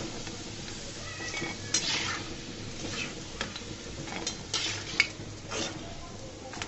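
Egg and flour snack dough frying in hot oil, a steady close sizzle with occasional stirring clinks and scrapes of a utensil against the pan, no voices.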